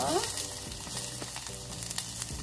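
Onion dropped into hot sesame oil in a pan for Korean gangdoenjang: a close, steady sizzle with faint stirring knocks.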